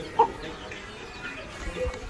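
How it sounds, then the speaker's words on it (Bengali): Village hens clucking while feeding their chicks, a few short, soft clucks near the start and end over quiet rural background noise. "এদিকে দেখো মুরগিগুলো ওর বাচ্চাগুলোকে খাওয়াচ্ছে"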